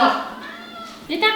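An adopted cat gives a couple of short meows indoors, close and fairly quiet, with a person talking over them.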